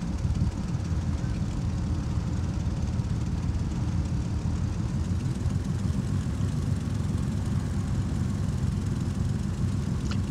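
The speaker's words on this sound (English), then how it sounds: "Piston engine aircraft, of course, today, 2 6-cylinder engine, Lycoming engines. These are turbocharged engines" Twin turbocharged six-cylinder Lycoming piston engines of a Piper PA-31 Navajo at cruise, a steady loud droning hum with a low throbbing propeller beat that holds unchanged throughout.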